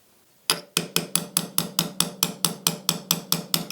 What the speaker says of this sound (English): I'm going to go ahead and put my roll pin in. Now for me, I'm going to use a roll pin punch just to preserve my pin